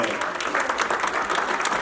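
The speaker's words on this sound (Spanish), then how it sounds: "Denle un aplauso al Rey de Reyes." Church congregation applauding in a steady, dense burst of clapping that fills the space, loud and continuous throughout with no break.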